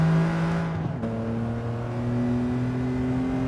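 A BMW Z4 3.0i on soft tires in Gran Turismo 7 revs its engine, with a steady droning note that dips at a gear change, then climbs and holds strong and close.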